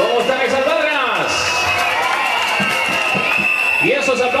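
Large crowd cheering and shouting at an outdoor popular beauty pageant coronation in Arboletes, Antioquia, a loud sustained roar with whoops and applause, plus a steady high whistle-like tone and an announcer's voice rising over it.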